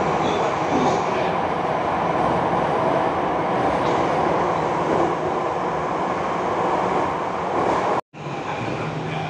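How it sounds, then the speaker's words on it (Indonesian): Jakarta MRT subway train running, heard from inside the car as a steady, loud rumble and rushing roar that briefly cuts out near the end before resuming. "This train is bound for Lebak bulus rel."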